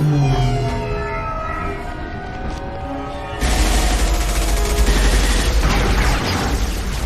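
In the Mass Effect 2 video game, a low tonal hum with a siren-like wail gives way to a sudden loud burst of sustained gunfire and booming impacts that continues to the end.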